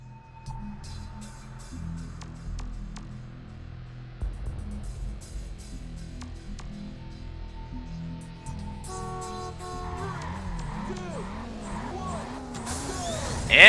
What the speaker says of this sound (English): And away I go with a nitrous boost.